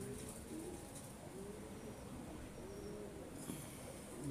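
Racing pigeons at a Lahore loft coo softly and repeatedly against a steady hum of background noise, with no voices present.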